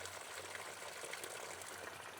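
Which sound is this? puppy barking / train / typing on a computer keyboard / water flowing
water flowing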